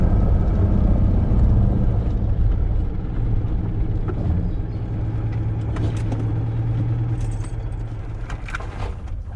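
A Citroën 2CV engine labors steadily uphill in second gear, a low, continuous droning rumble up close, with faint jangling and rattles on top and no talk.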